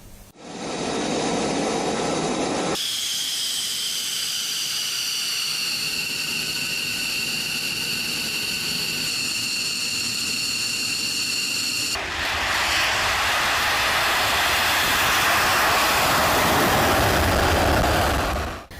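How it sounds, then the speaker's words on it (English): American F-35, F-15 and F-16 fighter jets taking off for strikes on Iran, a loud sustained jet engine roar with shifting high whine and rumble lasting throughout, no talk. "They have released a video of the planes taking off."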